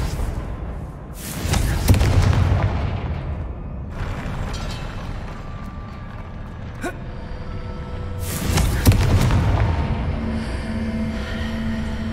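Confringo fire spell blasts in Hogwarts Legacy: two loud booming explosions a few seconds apart, each a broad burst that rolls off into rumbling game ambience and music.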